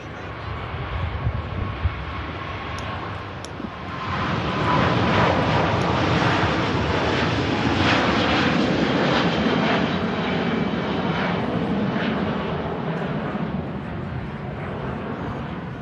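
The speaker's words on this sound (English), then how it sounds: "What a departure that was." An airliner departs Manchester Airport bound for Hong Kong, its engine roar swelling from a steady rumble to a loud, sustained broadband thunder that fills the scene, with faint speech early on.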